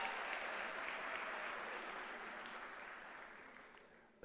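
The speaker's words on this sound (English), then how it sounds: "Can we please give that a round of applause" A large audience applauds at a university anniversary celebration in South Africa, a steady wash of clapping that is faint and distant, fading slightly toward the end.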